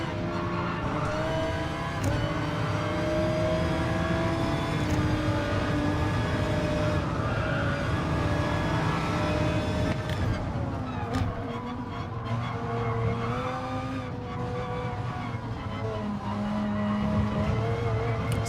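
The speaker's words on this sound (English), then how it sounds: "This car makes some cool noises." An Audi GR3 race car engine in Gran Turismo Sport drones and revs continuously, with tones shifting through gear changes and occasional tire squeals, loud and close throughout.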